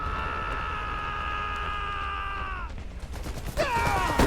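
Gunfire and combat in the World War I-era strategy game Iron Harvest during urban fighting: a sustained tonal hum gives way to a scattered burst of shots and impacts, with mixed, cluttered battle noise toward the end.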